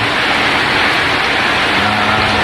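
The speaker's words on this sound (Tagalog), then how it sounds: "Ayan na naman, oh. Ulan na naman." Steady rain pouring on a construction site, a loud, even hiss of falling water with no break and no speech.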